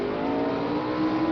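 Vintage drag racing cars launching off the start line at the 1972 NHRA Winternationals in Pomona, a loud, steady engine roar with a rising tone, close and continuous for a brief moment.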